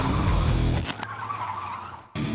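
A police car rams a stolen car off the road, and tires skid loudly with a rumbling engine, followed by a sharp impact and fading road noise.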